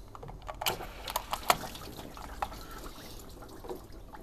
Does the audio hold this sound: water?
yes